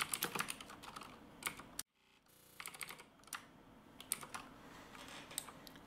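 Code is typed on a computer keyboard in quiet, close bursts of rapid key clicks with a brief pause partway through, and no voices.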